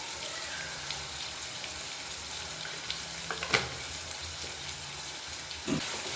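Onions and tomatoes with salt fry in a pan for vangibath, a soft continuous sizzle broken by a few louder scrapes and clacks of a spatula stirring, close by and without speech.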